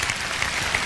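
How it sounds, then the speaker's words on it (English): Audience applause at a Tony Robbins motivational talk, a brief, dense, continuous clatter of many hands clapping, loud and close throughout the moment. "So I thank you for your applause."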